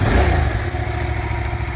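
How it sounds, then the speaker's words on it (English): A 2015 Yamaha FZ-07 sportbike with a fuel-injected 698cc two-cylinder engine runs steadily nearby, giving a loud, even, low throb with no voices over it. "698cc 2-cylinder engine, fuel injected, 6-speed transmission."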